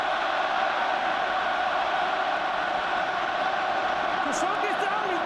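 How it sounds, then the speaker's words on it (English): A dense, roaring crowd fills a rugby stadium at an Ireland Six Nations match, a constant wall of chanting and cheering with no break, and a voice rises over it near the end. "Listen to the crowd, listen to the atmosphere here."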